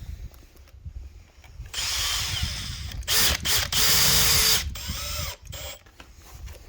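A cordless drill drives 4x50 screws through a uPVC window sill into the frame. The motor whirs in several close bursts of varying length with brief ratcheting pauses between them and quiet handling noise around them.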